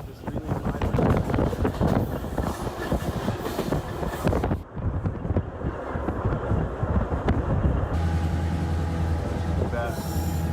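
Rumbling ride aboard an old smoke-belching train through the mountains of Yugoslavia, steady loud wheel and carriage noise with wind buffeting, a brief drop midway, then a lower droning hum near the end.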